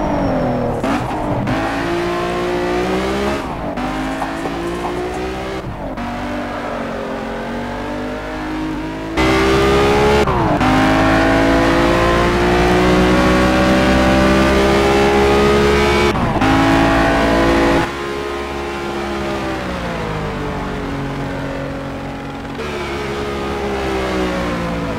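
A stock 1975 BMW 3.0 CSL engine in Need for Speed Shift 2 Unleashed, lapping the Hockenheim Ring, revs loudly and continuously, rising and falling through gear shifts with brief drops between pulls.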